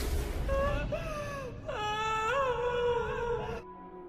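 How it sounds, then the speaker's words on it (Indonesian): Heartbreaking wailing and sobbing at a funeral home in a film, a drawn-out rising and falling cry that breaks into whimpering moans, fairly close and continuous. "membuat tangisan rintihan menyayat hati terdengar di rumah duka."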